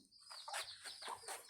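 Chickens cluck in short, repeated bursts, several quick calls close by in rapid succession with no pauses of silence between them.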